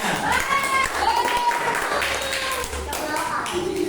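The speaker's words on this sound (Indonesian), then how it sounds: "Kasih aplaus kepada Alifah semuanya" A classroom audience of children clapping for a pupil named Alifah, a short burst of close applause mixed with a teacher's and kids' voices.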